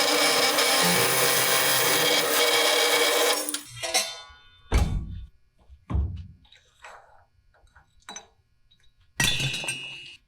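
A cold cut miter saw slices through metal with a loud, sustained grinding roar for several seconds, then winds down into scattered metallic clinks and thunks, with a final short burst of cutting noise.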